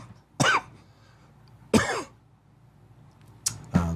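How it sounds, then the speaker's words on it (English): A man coughs in three separate sharp bursts, close and fairly loud, with quiet pauses between them. "When he coughs like that"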